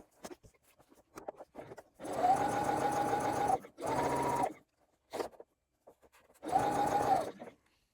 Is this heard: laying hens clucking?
no